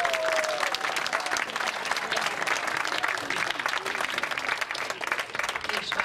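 Audience applause fills a hall after a Hungarian gypsy band is introduced, steady dense clapping from a crowd lasting throughout, loud and continuous.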